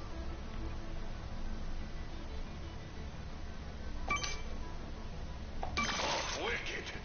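Bolt pickups in Ratchet & Clank on PS4, two bright metallic jingling bursts over a steady game background, with a person talking.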